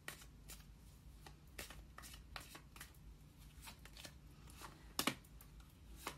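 Tarot cards shuffled and drawn, soft irregular riffles and flicks with a sharper snap near the end, quiet and close in a still room with no talking.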